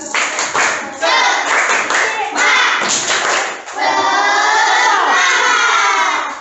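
A school class does a rhythmic spirit clap, loud close bursts of patterned clapping and thumps mixed with children shouting and chanting together, rising to a long cheering finish.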